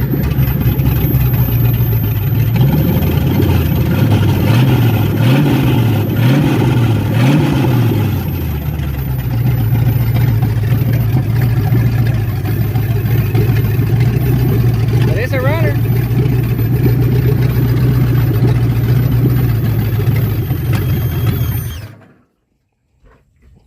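An old 1968 Ford Mustang V8 with a torn carburetor gasket runs loud and close, a steady rough idle with a few quick revs early on, and a voice speaks briefly over it before it cuts off.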